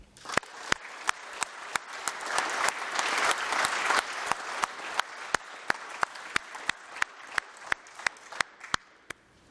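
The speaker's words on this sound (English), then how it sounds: "please join me in a round of applause for Cadet Will Rankin." An audience at a military award ceremony applauds for a cadet. A soft wash of many hands swells and then fades, while a few sharp individual claps ring out in a steady, evenly spaced beat.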